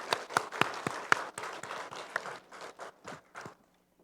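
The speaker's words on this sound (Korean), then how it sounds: "영광의 박수 올려드리겠습니다." In a church, the congregation applauds a Zion choir's hymn at Sunday worship with a quick burst of lively, dense clapping that stays loud, then thins out and falls silent near the end.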